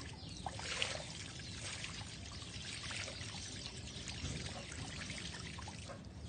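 Water pours and trickles steadily while tilapia are being caught, a continuous splashing stream with small bursts, fairly close but quiet, with no talk over it.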